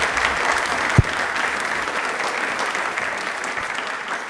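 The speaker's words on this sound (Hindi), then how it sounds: "Please एक बार जोरदार तालियां हो जाएं।" An audience at a quiz programme about Indian Railways gives sustained, dense clapping that fills the space at a steady level, with one sharper knock near the start.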